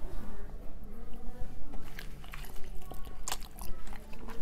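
Close-up biting and chewing of spicy ham and cottage cheese, with soft wet crunches and smacking mouth sounds repeating irregularly, loud and near, with no talking over them.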